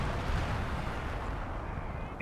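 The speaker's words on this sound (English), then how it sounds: "that's some British artillery" British artillery fire in Company of Heroes 2, a rumbling low barrage of distant shell impacts and blasts rolling continuously, fairly faint and muffled in the game mix.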